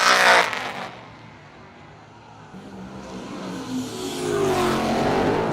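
A no-prep drag race car in the Wabash Valley races off loud and close, then fades as it bogs down under traction control before the engine swells and roars again toward the end.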